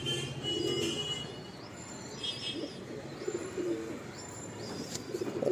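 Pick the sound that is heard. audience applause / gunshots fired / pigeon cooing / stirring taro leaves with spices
pigeon cooing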